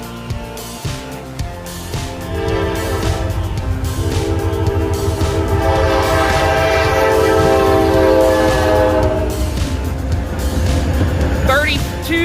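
SD40-2 diesel locomotive of the Indiana & Ohio at Ohio Central rumbling past close by, horn blaring in long sustained blasts over the engine, with people talking near the end.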